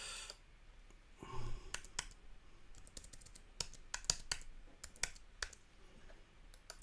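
Computer keyboard typing in a short burst of sharp, irregular clicks, near and fairly clear over faint room noise, with no talking.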